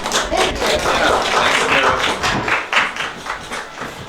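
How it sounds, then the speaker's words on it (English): Crowd clapping at a spoken-word poetry writing session, a rough, close round of applause that is loud at first, eases off briefly, then gives way to scattered claps and faint background murmur. "y'all give a round of applause"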